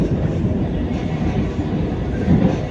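Vande Bharat Express train (No. 20607, Chennai–Mysuru) entering Katpadi Junction, a steady rumbling roar of moving carriages with faint rhythmic wheel clatter, heard from on board at a constant loud level.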